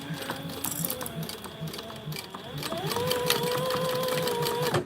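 A sewing machine runs steadily, stitching a seam on a two-sided bag strap with a quarter-inch stitch length, its rapid mechanical whir and clatter close and continuous, rising in pitch as it speeds up partway through while a voice speaks faintly in the background.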